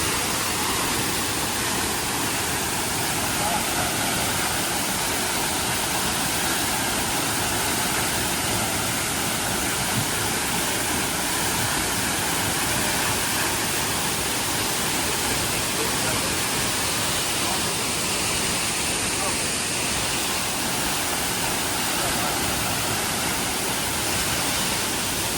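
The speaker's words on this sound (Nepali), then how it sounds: "फेवा पावर हाउसको झरना हेरौँ फेरि" The Phewa powerhouse waterfall in Pokhara roars in a dense, unbroken rush of falling water, loud and close, holding steady for the whole stretch with no breaks.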